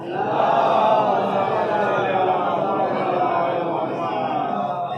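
A congregation at a majlis gathering shouts the Nara-e-Haideri slogan in unison, a loud, sustained crowd roar that swells early and then holds steady before tapering slightly.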